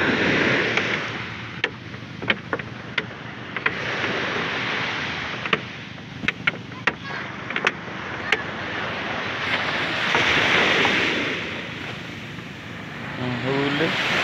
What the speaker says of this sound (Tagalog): Pagtampal ng alon dyan, lalo na yan.